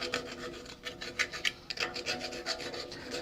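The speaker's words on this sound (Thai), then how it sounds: "เนี่ยตะไบถูก็ได้นะครับ" A hand file rubs back and forth over the metal of a new gas-fired sausage waffle maker, making close, quiet, rhythmic rasping strokes in a steady series.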